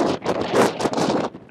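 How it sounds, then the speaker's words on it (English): Strong wind buffets an outdoor microphone, a loud continuous broadband rumble that rises and falls in gusts with no voices over it. "Wow, it is windy."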